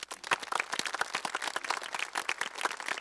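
An audience at the Parkersburg High School graduation ceremony in West Virginia breaks into dense, sustained clapping, with many hands close and loud throughout.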